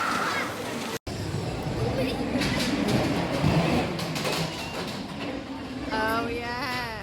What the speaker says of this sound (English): First ride is the ghost train.